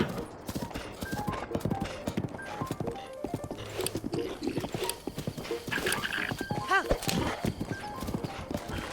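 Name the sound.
horse galloping in video game Breath of the Wild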